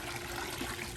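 Water pours and trickles steadily out of a flooded toolbox left out in the weather, a close, continuous splashing flow.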